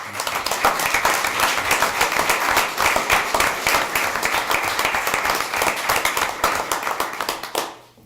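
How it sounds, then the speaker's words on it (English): Sustained round of applause from an audience at a school board meeting, dense overlapping handclaps at steady loudness that stop abruptly at the end. "So I think these kids deserve a nice round of applause."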